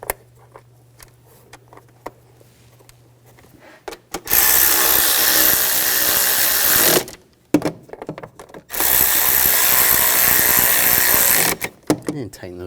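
A power ratchet buzzes loudly in two sustained bursts, each several seconds long, tightening cover screws on a 2000-2006 BMW X5 3.0L, with quieter handling clicks before and between.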